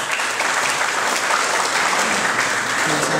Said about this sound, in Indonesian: Tepuk tangan dulu dong buat Kebumen